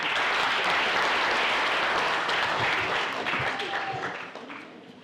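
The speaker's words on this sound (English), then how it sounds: "Please, let's give a round of applause." An audience at an outdoor national park launch event gives a full round of applause, dense steady clapping that tapers off toward the end.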